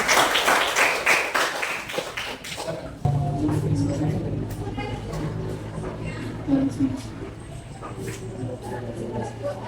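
Students in an Indonesian mathematics classroom clap for a presenting group, a brief burst of scattered handclaps over the first few seconds, followed by room hum and indistinct talk.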